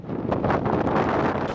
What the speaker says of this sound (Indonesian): Ombak ganas selalu berdeburan ke tepi pantai seiring terjangan angin kencang.